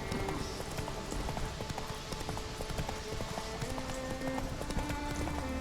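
Roach the horse gallops in The Witcher 3, a steady, brisk clip-clop of hooves running alone over a dense, continuous backdrop.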